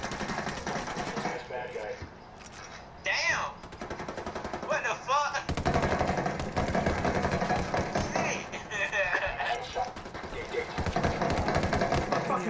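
Automatic gunfire in Ghost Recon, rattling bursts of shots in rapid succession mixed with thumps, under excited voices talking and shouting.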